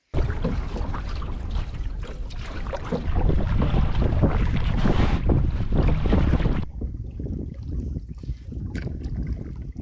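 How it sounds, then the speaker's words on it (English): A stiff headwind buffets the microphone while canoeing on North Tea Lake in Algonquin-area Ontario, a loud continuous rumbling wind roar that eases somewhat partway through, with faint water and hull sounds beneath. "As we battle a stiff headwind the entire time we're on North T Lake"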